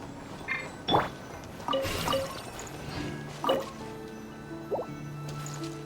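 Water dripping from a soaked character in Genshin Impact: a handful of close, wet drips and squishy plops spaced irregularly over a faint ambient background.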